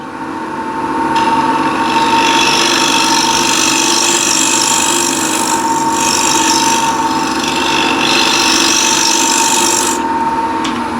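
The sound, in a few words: wood lathe scraper cutting wood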